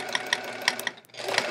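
A sewing machine stitching fast during free motion quilting on a chevron quilt, a close, rapid mechanical whir with quick rhythmic needle clicks, pausing for a moment near the one-second mark before running on.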